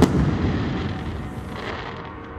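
Fireworks finale at the Bok Kai Festival, a dense rumble of overlapping booms and crackling bursts from the outdoor display, loud at first and slowly fading over about two seconds.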